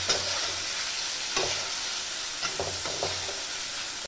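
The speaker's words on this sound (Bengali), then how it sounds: "পেঁয়াজটাকে আমি খুব ভালো করে লাল লাল করে ভেজে নেব।" Chopped onions browning in hot oil give a continuous close sizzle, broken by a few scraping stirs of a spoon against the pan, with no voices.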